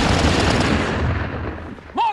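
Sustained, dense machine gun fire crackles in a trench battle, a continuous loud rattle of rapid shots that fades slightly before a brief shouted voice cuts in at the end.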